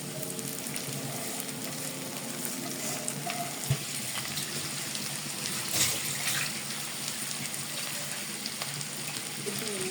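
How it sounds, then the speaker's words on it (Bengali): Water is poured into a hot pan of frying water spinach with onions and chillies; a dense, continuous sizzle swells briefly as the liquid hits, heard up close with no talking. "সেদ্ধ হওয়ার জন্য আমি এর মধ্যে সামান্য পরিমাণ পানি দিয়ে দিলাম"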